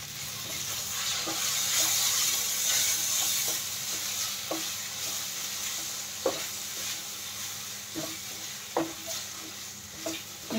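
Spiny gourd stuffing with coconut and boiled potato is stirred in a pan. A soft, continuous sizzle runs throughout, broken by scattered scrapes and taps of a spoon against the pan, with no voices.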